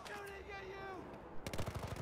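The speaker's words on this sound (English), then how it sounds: "They're shooting at you!" Gunfire bursts in Battlefield 4 during a Baku mission, a rapid string of sharp close shots near the end following a sustained electronic tone.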